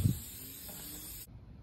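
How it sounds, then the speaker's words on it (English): A steady aerosol hiss of engine brightener spraying onto an engine, close and fairly loud, then cutting off abruptly. "And just spray it on"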